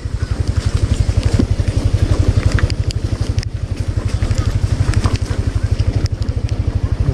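A big motorcycle engine idles and revs with a steady, close, loud pulsing rumble, wind noise and road crackle layered on top while riding in Indonesia.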